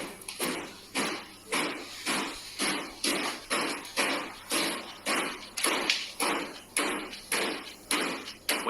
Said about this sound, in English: Soon after, a cupboard door begins to knock as well.